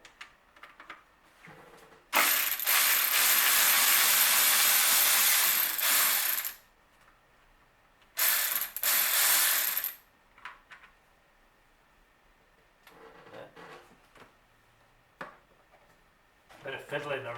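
A hand ratchet working an 8mm bolt on a Mini Cooper R56 engine bay clicks rapidly and closely in two sustained bursts, the first about four seconds long and the second shorter, with someone talking in the quieter gaps.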